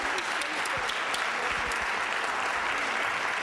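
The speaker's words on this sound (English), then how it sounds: "Let's give them a big round of applause." A dense, steady round of applause for schoolchildren fills a hall, loud and continuous throughout with no pauses.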